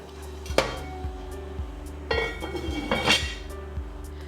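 A metal lid is set onto a pot of pumpkin chicken soup with okra, giving a few sharp clanks and rattles among soft kitchen knocks, close by and with no talking.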